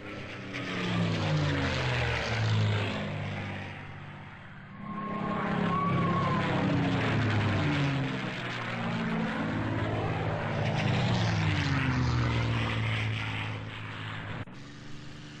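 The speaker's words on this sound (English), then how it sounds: "And who doesn't like the sound of that engine?" A P-51D Mustang's piston engine droning in the IL-2 1946 flight game, a loud continuous propeller roar with slowly shifting pitch throughout, no talk.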